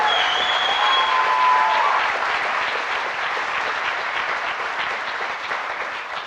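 Steady, dense audience applause fills a large room at the 2012 Letelier-Moffitt Human Rights Awards ceremony, honouring a youth slam poetry team and drummer. It stays loud and close throughout, easing slightly toward the end with no speech.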